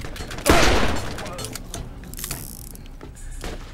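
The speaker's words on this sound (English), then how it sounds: "Oh yeah, I love this pistol." Pistol shots ring out in Borderlands, a loud close crack followed by quieter scattered shots and clanking game noises, with a voice heard faintly underneath.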